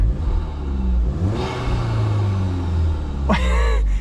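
A Volkswagen Golf GTI Mk8 40th Anniversary engine hums and rises as the car drives, a low steady drone with swelling revs and a sharper burst near the end, heard from inside without talk.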